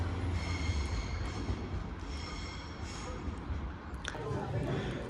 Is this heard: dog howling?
no